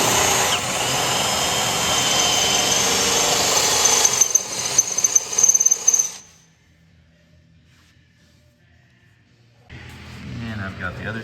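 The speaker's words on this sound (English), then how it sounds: "so now we just got to drill these through, and then we'll weld nuts on the back side" A power drill bores through a steel truck bumper flange, loud and grinding for about six seconds with stuttering bursts toward the end, followed by near silence before a quieter noise returns.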